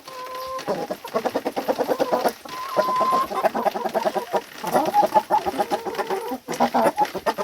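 Several hens, some with bare, featherless patches, cluck and murmur close by in uneven bursts, with a few drawn-out calls rising above the chatter.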